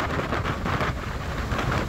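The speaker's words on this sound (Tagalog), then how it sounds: "umuulan pa" A dense, steady wash of rain with gusty wind noise buffeting the microphone throughout, heard on a bike ride along a highway.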